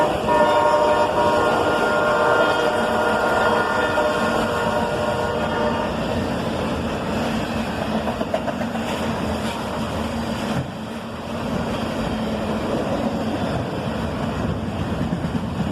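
A northbound freight train of auto racks led by an SD70MAC rumbles past nearby with a loud, sustained horn blast at the start, then continuous rolling and clattering of wheels on track.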